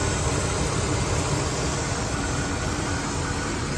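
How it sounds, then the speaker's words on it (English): A 1975 Chevrolet Caprice Classic convertible's 400 engine idles steadily, a dense, even rumble mixed with broadband hiss that holds without change from start to finish. "Motor running nice."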